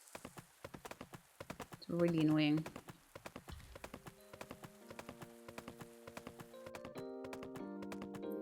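Steady clip-clopping horse hooves in the farming game Pumpkin Days, a regular galloping rhythm of close, crisp beats, with a brief voice over it and soft music chords rising underneath toward the end.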